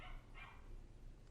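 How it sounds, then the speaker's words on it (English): A couple of short dog barks, fairly faint and distant, then quiet background. "Oh, that's a dog barking."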